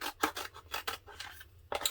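Black vinyl sheet being cut for a layered decal, giving a series of short, crisp snipping and rubbing strokes at close range, with a quieter gap before a final burst of cuts.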